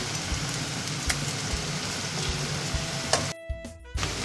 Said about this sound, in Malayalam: ഇപ്പം നമ്മൾ തേങ്ങ നന്നായിട്ടൊന്ന് വറുത്തെടുക്കാം.